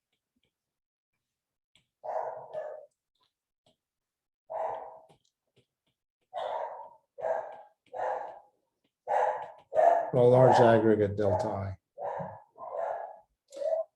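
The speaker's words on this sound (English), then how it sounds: "my dogs are going nuts here" Dogs bark indoors at home in repeated short bursts separated by pauses, rising into a louder, longer whining bark midway, with a brief word spoken among the barks.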